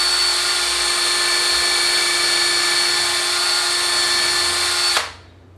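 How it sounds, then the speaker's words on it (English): A power drill bores steadily through cherry wood for a miniature table, a loud continuous high whine holding for about five seconds before cutting off abruptly, with no talking. "do the 3/8 on the drill press, drill out the 3/8 hole"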